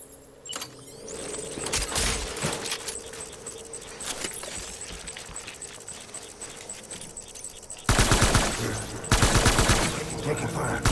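Gunfire in the video game Death Stranding comes as dense, continuous bursts of rapid shots and clatter. It grows louder and fuller toward the end, with a voice speaking over part of it.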